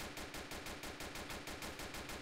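Automatic gunfire in a German police action game, an armored truck battle against criminals: a steady, rapid burst of shots with an even rhythm, loud and dense throughout, with no talking.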